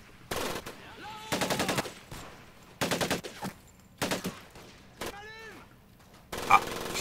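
Bursts of enemy machine-gun fire from the Medal of Honor: Pacific Assault Guadalcanal level come in short, repeated volleys with gaps between them, moderately loud against the game's quiet background.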